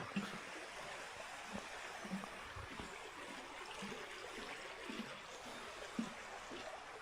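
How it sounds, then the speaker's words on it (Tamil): A steady wash of flowing stream water in the Blue Mountains, Australia, running nearby, continuous and moderately soft with small irregular gurgles and bumps throughout. "தண்ணி சத்தம் ஜாஸ்தியாக அது கேட்குது,"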